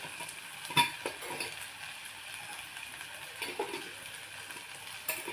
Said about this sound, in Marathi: आपण परतून देऊया आता भाज्या पण परतल्या आपल्या छान